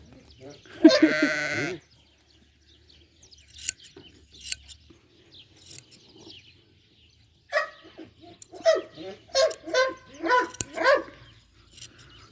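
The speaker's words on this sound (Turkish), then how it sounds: "Tüylerini kesiyoruz diye havlayıp durma" A dog barks in two close, loud bursts during sheep shearing on a farm: a short flurry early on, then a longer run of repeated barks, with quiet gaps and faint activity between.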